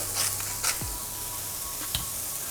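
A vegan scramble made with nutritional yeast, salt, pepper and garlic powder sizzles steadily in a frying pan, broken by a few soft scrapes and knocks as it is stirred.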